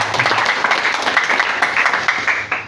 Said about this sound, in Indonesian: Tepuk tangan bagi kemuliaan.